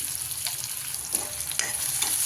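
Chopped onion frying in oil for a village-style chicken dish, a continuous hiss with a few soft scraping stirs of a spatula, near and steady, no voices.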